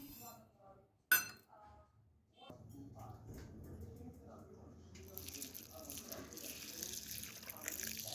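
Organic black rice is rinsed and swished in water by hand, with soft sloshing, squishing grains and light clinks against the vessel that grow busier toward the end, after a brief voice early on.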